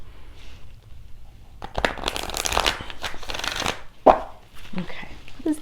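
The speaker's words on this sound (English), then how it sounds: "I'm just going to shuffle super quick." A deck of tarot cards being shuffled quickly by hand nearby, with a flurry of riffling and papery slaps that builds in the middle and then trails off into a few soft taps.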